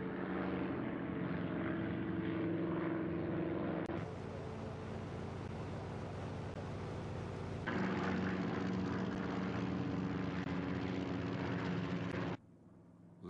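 Japanese warplanes of the Pearl Harbor attack roar overhead, a loud, sustained propeller-engine drone that holds steady for about twelve seconds, swells brighter partway through, then cuts off abruptly.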